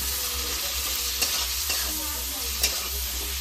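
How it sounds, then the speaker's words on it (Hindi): A spoon stirs cumin and coriander powder into a potato mixture in a pan, with a soft steady sizzle and a few sharp scraping clicks against the metal. "जीरा पाउडर धनिया पाउडर हमें भल से मिक्स कर दबा"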